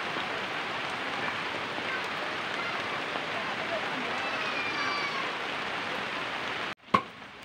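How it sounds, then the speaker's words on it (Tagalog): Steady, dense hiss of heavy rain falling nearby, continuous for several seconds before a brief sharp knock near the end. "Lakas ng ulan."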